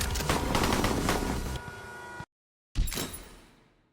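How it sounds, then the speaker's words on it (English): Rapid gunfire fired from a moving vehicle in the Henry Stickmin video game, a dense burst of shots that drops out briefly, then returns with another sharp blast that fades away. "Shooting from a vehicle is actually really hard, especially if you're supposed to be driving"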